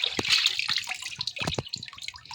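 Water drips and trickles from freshly washed cassava resting in a sieve, a close, irregular patter of small drops and splashes with a steady wet hiss behind them.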